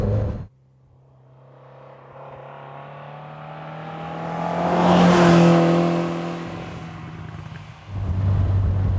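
A 1972 Lotus Europa Special being driven, its engine note building smoothly from a low steady drone to a louder peak and then easing off, heard from inside the car with no talk.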